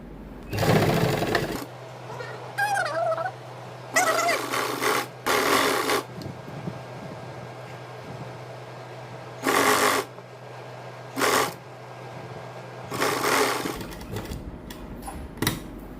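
A sewing machine stitches a neckline strip for a V-neck design in short bursts of rapid whirring, a handful of separate runs between quiet pauses, close and clear, with no voices over it.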